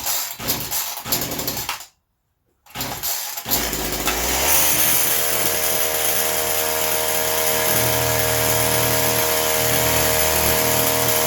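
A Black Max chainsaw engine starts sputtering, cuts out briefly into silence, then catches and runs at a loud, steady, buzzing drone up close for the rest of the time.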